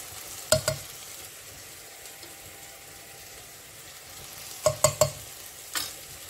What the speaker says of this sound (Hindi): ये मसाला भून लेंगे अच्छे से।